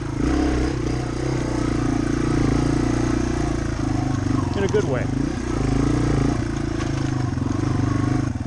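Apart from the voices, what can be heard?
dual-sport motorcycle crawling in first gear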